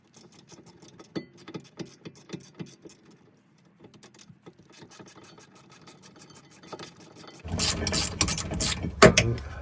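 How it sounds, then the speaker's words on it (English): A 17mm ratcheting wrench loosening a rear brake bolt on a 2008 Honda Accord: rapid rhythmic ratchet clicks in quick strokes, close and crisp, ending in a louder, denser burst of clicking. "Grab our 17mm ratcheting wrench."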